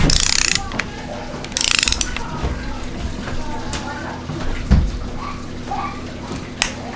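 A hand ratchet clicks in quick bursts while torquing down camshaft bolts during a Crower Stage 1 camshaft install on a Neon SRT-4 engine, close and sharp, with scattered metallic mechanism sounds between strokes.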